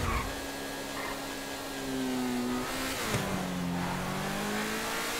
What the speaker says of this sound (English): the sound of the engine is really great.